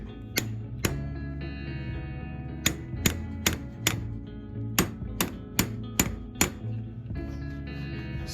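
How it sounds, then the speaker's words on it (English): A hammer taps on a steel plate on a Dana 30 front axle, about a dozen sharp metallic strikes in irregular pairs and runs over a low steady hum. "maybe tap on it with the hammer"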